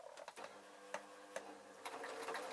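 A sewing machine stitching a tiny earphone case, quiet rhythmic mechanical whirring with a few distinct clunks of the needle, no voices.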